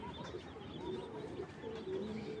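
A racing pigeon coos softly and repeatedly in low, rolling bursts, close by and alone against faint background noise.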